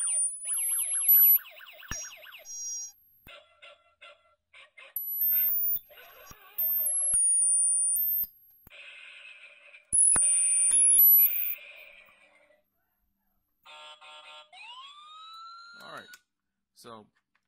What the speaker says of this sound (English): I'll turn the knob for the ultrasonic sounds.